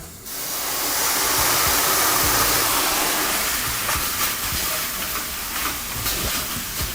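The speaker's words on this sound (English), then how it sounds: "now we're gonna deglaze with some of the vinegar" Vinegar hits a hot pan of mushroom chicken sauce and flares into a loud, broad steamy hiss that swells over the first seconds, then settles into a sustained sizzle with faint scraping.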